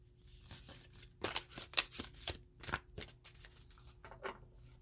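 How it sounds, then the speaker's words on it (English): Heart-shaped oracle cards shuffled by hand, giving a close, irregular run of papery riffles, flicks and slides, some louder bursts mid-way, with no speech over it. "This one's a little tricky because it's shaped like a heart. So it doesn't shuffle very easily."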